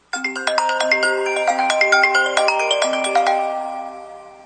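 The exclusive default ringtone of the Apple iPhone X plays alone as a bright, layered electronic chime melody of rapid plucked notes that rings clearly and then fades out.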